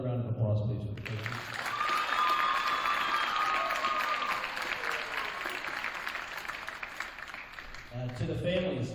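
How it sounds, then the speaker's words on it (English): Warm, sustained applause from the audience at a high school winter sports awards night, honoring the coaches; it swells in after a brief pause and stays full and steady for about seven seconds before thinning out. "So another round of applause, please, for the coaches."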